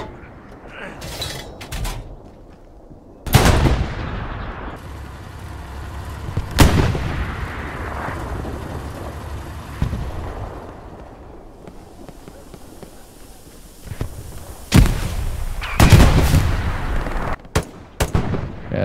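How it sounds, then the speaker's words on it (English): Gunfire in the World War II shooter Hell Let Loose, with loud, sharp reports and bursts scattered irregularly, some near and booming, others thinner, alongside mechanical clatter and voices talking over the fighting. "We're getting grinded by MGs right now."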